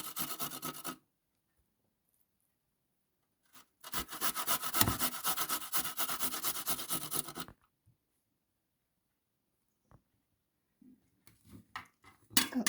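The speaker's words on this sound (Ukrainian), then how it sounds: "натираю далі на цю саму терку і три зубочки або чотири часничка" Garlic cloves rasped against a grater after carrots, in two bursts of steady scraping, one short and one longer and louder, then silence with a few faint clicks and scrapes near the end.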